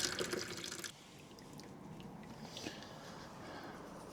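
Water draining from a newly fitted tap on a vintage Lister D stationary engine, a faint close trickle and drip, louder for the first second and then a soft steady flow.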